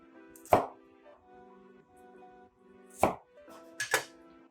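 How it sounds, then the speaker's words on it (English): A knife chops an onion into large chunks on a cutting board: three sharp, close thumps with gaps of silence between them, the last coming as a quick double hit. "since we are roasting the onion, we're going to go with very large chunks. And I'm just going to cut it"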